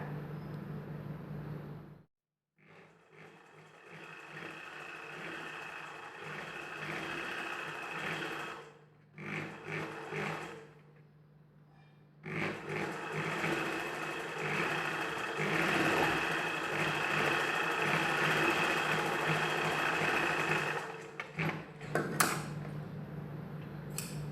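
Close sewing machine stitching a back-open blouse, running in long steady bursts with a few short pauses, loud and mechanical, with no talk.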